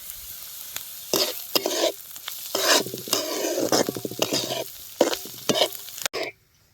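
Soaked poha stirred and tossed in a hot pan with turmeric and salt, scraping spoon strokes over a gentle sizzle in several bursts, close and fairly loud, with a brief clank before it cuts off.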